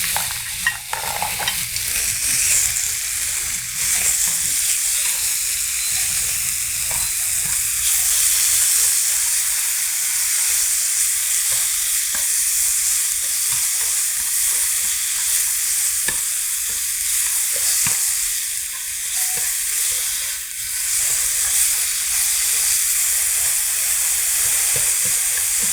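Beef hits hot cooking oil in a frying pan for Korean rice cake soup, producing a loud, continuous close sizzle and hiss with scattered pops and light utensil clicks throughout, no talking.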